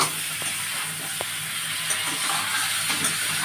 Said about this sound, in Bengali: আমি নাড়ছি দেখুন বন্ধুরা আনাজটা।